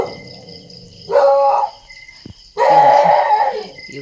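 A dog barks in two loud bursts, one short and one longer, during a nighttime thunderstorm. Crickets and insects chirp steadily between and beneath the barks.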